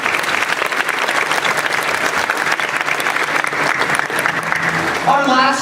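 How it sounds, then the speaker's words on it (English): A large audience at SeaWorld Orlando breaks into a sustained round of applause, dense and steady throughout, with some crowd voices mixed in and a brief pitched tone near the end. "Let's give her a nice round of applause, everyone."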